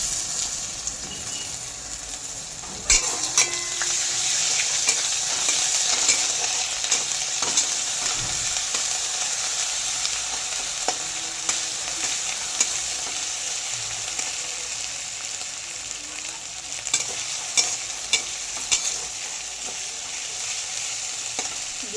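Ginger and garlic paste fries in a pan with a steady, close, loud sizzle that runs throughout, broken by occasional sharp clicks and scrapes of stirring; no one speaks.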